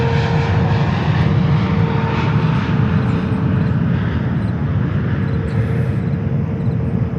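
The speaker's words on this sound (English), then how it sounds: "Korean Air Cargo 777 freighter coming in from Anchorage in Alaska" A Korean Air Cargo Boeing 777 freighter arriving from Anchorage lands at JFK, its engines a loud, continuous roar that holds steady throughout, with no voices over it.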